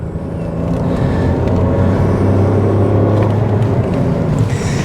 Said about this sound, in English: The engine note is completely different.